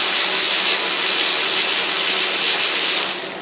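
A ratchet wrench tightens a bolt on the starter of a Craftsman YT4500 riding mower, a rapid close clicking whir that runs steadily for a few seconds.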